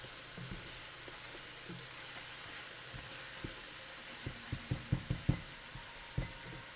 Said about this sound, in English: I'm going to start mixing the onions with the meat.